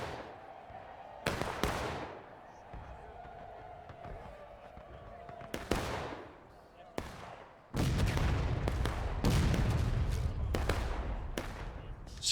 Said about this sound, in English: See that arty fire coming in.